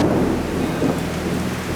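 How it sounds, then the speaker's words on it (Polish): Heavy, steady rain falls in Luang Prabang, Laos, the day after a typhoon, a dense continuous wash of rain with a low rumble beneath it, loud and unbroken throughout. "W konsekwencji tego mamy od 48 godzin non-stop deszcz."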